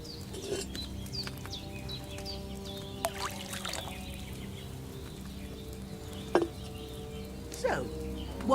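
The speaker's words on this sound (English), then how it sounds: "So, what did you pour in there? Wine, of course." Wine poured into a cauldron in a video game, a soft trickling pour alongside ambient game tones, bird calls and occasional light clicks, fairly quiet.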